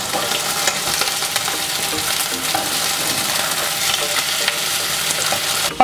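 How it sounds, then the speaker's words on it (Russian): Chicken fillet frying in oil in a pan over medium heat, a steady, dense sizzle and crackle that runs unbroken and close throughout, with no talking. "Обжариваем на среднем огне с 2 сторон до готовности."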